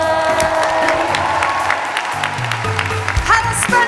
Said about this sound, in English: And a big round of applause to Juno Dawson, Athena Kugblenu and Zach Palanski!